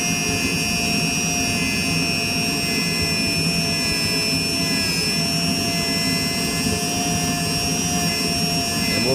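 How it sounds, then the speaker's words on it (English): Steady high-pitched whine of a rotary polishing tool buffing a silver coin ring with polishing compound, loud and continuous with strong tonal hum throughout, no talking. "And we'll go through the motions of polishing."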